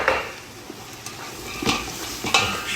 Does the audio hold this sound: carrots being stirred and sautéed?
yes